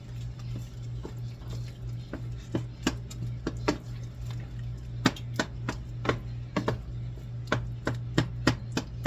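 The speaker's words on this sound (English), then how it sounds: "I just kind of like bust it up a little bit with my spoon" A spoon breaks up crab meat in a pot for seafood Newburg, giving irregular soft clicks and taps against the pot that grow denser toward the end, over a steady low hum.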